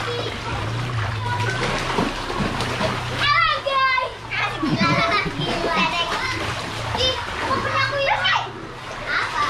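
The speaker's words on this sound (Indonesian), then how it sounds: "Ya, main banjir-banjiran" Children play in seawater flooding northern Jakarta, splashing repeatedly and noisily at close range while they shout and chatter throughout, over a low steady hum.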